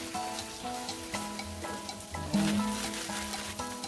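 Green onions for an oven-baked chicken and rice dish sizzle in a hot pan, a steady frying hiss with intermittent scraping stirs and a louder burst midway, close up, with no talking.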